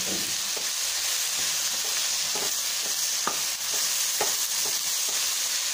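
Spices such as chilli powder and coriander powder frying in a pan for a mini meal maker gravy, with a steady sizzle under repeated scraping strokes of a stirring spoon, close and continuous.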